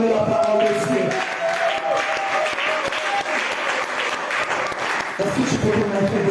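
A church congregation claps and cheers loudly throughout during a sermon, with music or voices faintly audible beneath the applause.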